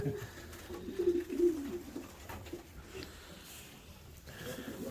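Pigeons coo in low, rolling murmurs close by in a pigeon loft, with soft rustling and a faint murmur of talk underneath.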